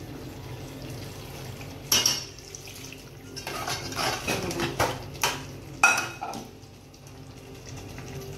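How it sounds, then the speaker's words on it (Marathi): A lid set onto a cooking pot on the stove makes a few sharp metallic clinks and clatters, scattered over a quiet kitchen background with no talking. "आता आपण याच्यावर झाकण देऊन ठेवूया"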